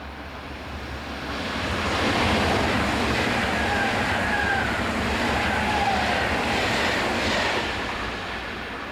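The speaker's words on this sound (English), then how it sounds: "151049 departs at the rear of the northbound freight" Locomotive 151049 departing at the rear of a northbound freight train, a broad rumbling roar that builds and holds steady before easing slightly, heard from a distance with no voices.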